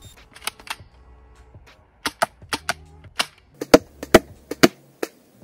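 A cheap airsoft replica gun fires a string of sharp plastic snaps at a target about five metres away, crisp and close, irregularly spaced with a few quicker bursts near the end.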